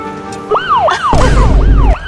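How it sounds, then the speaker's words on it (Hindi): A police siren in a TV series wails in repeated rising and falling sweeps, loud and close, with a low rumble joining partway through. "अब सायरन सुन के इन बाप बेटों को लगता है कि पुलिस उनके लिए आई है"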